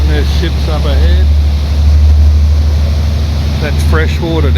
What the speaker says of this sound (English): Sounds like a big V8 or something under that thing.